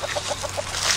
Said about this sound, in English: we got the chickens